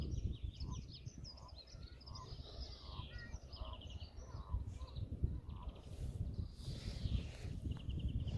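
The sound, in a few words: birds tweeting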